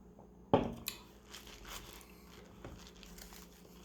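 A single loud close bite into a crunchy KFC spicy chicken sandwich, then softer crackly chewing and crunching that fades over the next few seconds.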